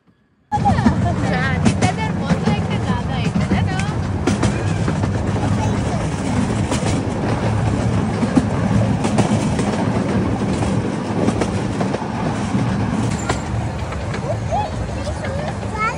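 A small tourist train rumbles along its track in London with steady clattering wheel noise and rattling carriages, close and continuous, while people talk over it.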